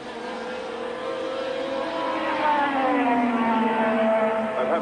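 1987 Formula 1 cars with 3.5-litre engines racing at the Italian Grand Prix, a continuous engine drone with pitch sweeping down and up as the cars pass at a distance, mixed with crowd and track ambience.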